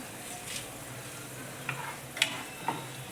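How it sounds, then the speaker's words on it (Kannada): Peanuts and mustard seeds fry in hot oil, a faint, soft sizzle with a few light pops and clicks scattered through a quiet background. "ಇದು ಕಡಲೆ ಬೀಜ ಫ್ರೈ ಆಗ್ತಾಯಿದೆ ಈಗ ಸ್ವಲ್ಪ ಸಾಸಿವೆ ಹಾಕೋತಾ ಇದ್ದೀನಿ"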